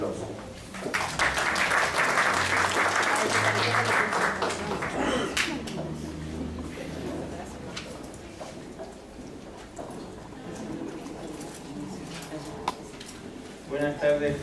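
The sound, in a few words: audience applause at a conference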